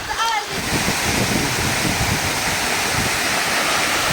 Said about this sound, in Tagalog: So we are now here at Barisibi Falls.